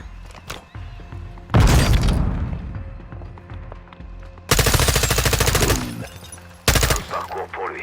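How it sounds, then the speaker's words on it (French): Call of Duty MW2 combat erupts with a loud frag grenade blast followed by dense bursts of rapid gunfire, close and harsh, with another sharp burst near the end. "On va envoyer une grenade frag plutôt."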